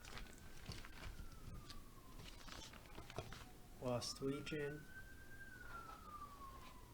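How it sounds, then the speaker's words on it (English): Faint siren going off outside an apartment, a slow rising and falling wail in the distance heard beneath close-up talking and light tapping. "you're going to hear a lot of extraneous noise from my apartment, like the siren going off right now"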